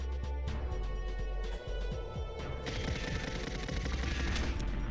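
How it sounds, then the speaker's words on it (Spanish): Dense, continuous automatic gunfire in the GoldenEye 007 video game on Nintendo 64, rapid bursts of shots layered over a steady low rumble, loud and unbroken throughout. "¡Me disparan!"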